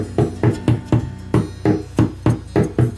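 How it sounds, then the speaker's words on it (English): Someone taps with the wooden handle end of a hammer while working on an acoustic guitar, making a steady run of about a dozen light, evenly spaced knocks up close. "I basically just tapped it just a little bit with this with the bottom of the hammer, not the metal head, definitely not, just the wood part"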